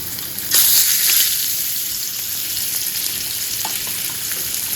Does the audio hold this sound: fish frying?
yes